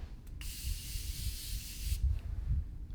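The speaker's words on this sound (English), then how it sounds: "their Continuous Setting Mist. I was intrigued that it was an aerosol can." An aerosol can of continuous makeup setting mist sprays one steady hiss lasting about a second and a half, close and fairly loud, over a low background rumble.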